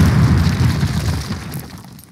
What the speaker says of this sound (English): Place your explosives on the cinder block wall.